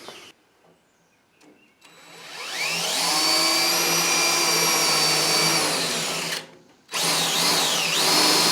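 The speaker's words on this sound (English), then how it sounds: "you should be able to basically take the drill sideways and go around like this and nibble that hole out" A power drill nibbles sideways around a hole in sheet metal on a 1968 Mustang fastback, whining loud and steady for several seconds, stopping briefly, then starting again.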